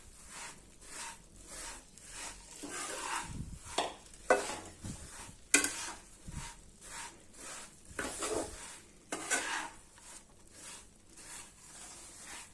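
Puffed rice is stirred into melted jaggery for murmura laddoo, with rhythmic scraping and rustling strokes in the pan and a soft sizzle beneath, close and moderately quiet, with no talk.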